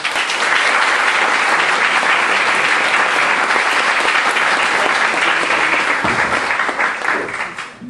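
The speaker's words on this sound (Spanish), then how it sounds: "les pido un fuerte aplauso para él" An audience at a talk on the film The Merchant of Venice claps in dense, sustained applause for about eight seconds. The applause stays loud and even, then tapers off at the end.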